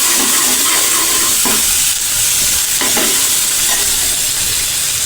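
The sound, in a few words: stirring frying onions with a spoon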